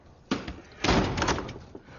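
A door shuts with a solid thud, followed by a rattling knock and some shuffling movement nearby.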